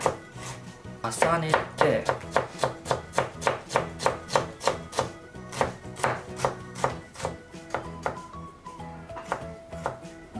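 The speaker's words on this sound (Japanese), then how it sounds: "千切りしたものをこうやって、横方向に切っていくとみじん切りになりますので" A knife chops shell-on ginger and garlic finely on a cutting board for a hot pot, a steady run of sharp, close taps repeating rapidly, with a brief word spoken over it.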